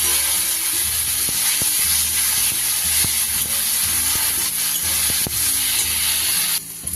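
Ginger, garlic and green chili paste frying in a hot pan, a steady loud sizzle with scraping stir strokes and utensil knocks throughout, ending abruptly near the end.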